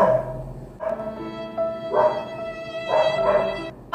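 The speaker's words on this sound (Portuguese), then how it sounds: "vamos esperar o cachorro parar de latir pra eu conseguir gravar" A dog barks in a home, giving several loud, close, tonal barks in uneven bursts about a second apart with whiny overtones, no talk over it.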